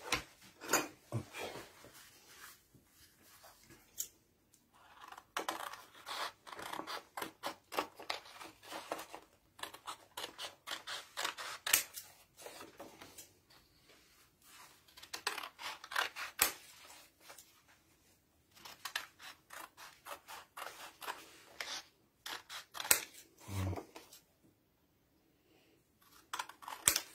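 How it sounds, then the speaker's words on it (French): Paper being torn out of a travel sketchbook and cut with scissors, a run of crisp snips and rustles arriving in bursts with short pauses, fairly close, no talking. "Je vais déchirer cette page et la découper."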